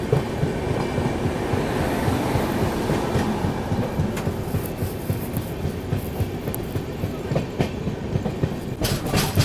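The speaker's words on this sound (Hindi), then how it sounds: "ये लो भाई साहब मेन लाइन में आके मर्ज हो गई अपनी ट्रेन" A long-distance express train from Visakhapatnam to New Delhi runs on the Itarsi–Bhopal main line. A steady, close rumble carries rhythmic clickety-clack wheel beats and occasional faint wheel squeals, with no voices.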